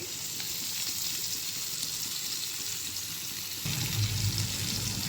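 Dry coconut fries in a pan for a meat curry masala, with a steady close sizzle and light stirring that gets louder toward the end.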